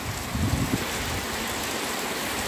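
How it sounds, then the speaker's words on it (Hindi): Steady hiss of heavy rain falls continuously in Qatar, broad and even, with a brief low rumble near the start. "ज़बरदस्त बारिश है कतर में"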